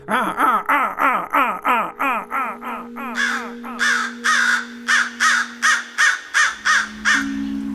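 A voice imitates a crow's scold call, repeating harsh caw-like calls in a fast, steady series, loud and close, with a sustained tone underneath.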